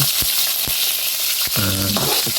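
Garlic and onion sauté in a hot pan for a Pangasinan-style dish of ginisang talaba and paksiw na bangus, with a constant close sizzle, a few scraping stirs, and someone speaking briefly over the frying.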